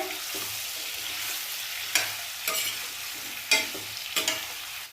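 Raw mango pieces sizzle steadily in hot oil for a sweet-and-sour green mango curry, with a constant close frying hiss broken by several sharp scraping stirs of a spoon in the pan; no one speaks.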